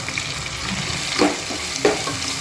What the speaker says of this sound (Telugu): కొద్దిగా ఆయిల్లో ఫ్రై చేసుకోవాలి